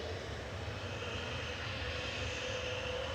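An easyJet passenger jet at Manchester Airport roars with a steady, loud engine drone that holds without letup, broad rumble beneath a faint higher whine.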